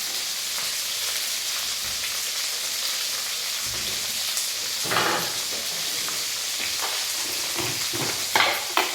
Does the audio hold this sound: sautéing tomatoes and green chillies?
yes